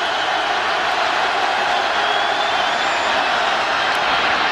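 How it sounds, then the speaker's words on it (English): Steady roar of a large football stadium crowd at Ohio State hosting Bowling Green in 2003, rising on a third down, continuous and dense throughout. "Crowd coming alive."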